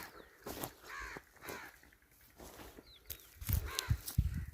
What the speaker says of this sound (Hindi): हर तरफ चिड़ियों की आवाज़ें हैं, परिंदों की आवाज़ें हैं